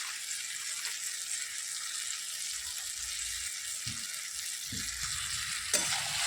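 Cumin and coriander powder get stirred through rice in a pan over a wood fire, a soft steady sizzle with a few low scrapes and knocks near the end, fairly quiet and without talk.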